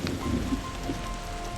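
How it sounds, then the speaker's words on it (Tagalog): Steady rain pattering on surfaces outdoors, a soft continuous hiss with a few distinct drops, light and fairly close, no voices. "Mga idol, maulan talaga."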